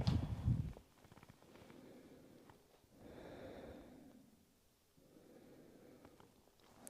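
Slow, deep breathing during a gentle yoga stretch for tense shoulders, with quiet, drawn-out inhales and exhales in long soft swells, near and alone, no talking.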